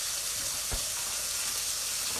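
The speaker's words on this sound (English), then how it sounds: "all we're doing is just frying these off" Chorizo frying in a pan for one-pan flamenco eggs, a steady close hiss and sizzle running evenly throughout with a single soft knock partway.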